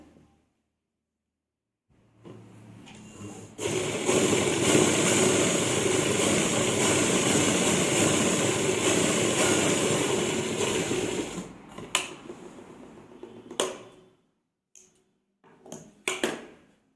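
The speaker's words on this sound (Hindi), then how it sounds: "इस पर सिलाई लगाएंगे नीचे वाली साइड" A sewing machine runs in one steady, continuous burst while stitching the folded pocket on ladies' pants, then stops, followed by a few short handling knocks and clicks.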